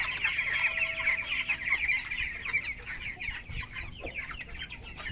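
Broiler chickens in a farm poultry house cluck and squawk excitedly at feeding time, a dense, continuous flock chatter with many overlapping calls, close and fairly loud, with no talking.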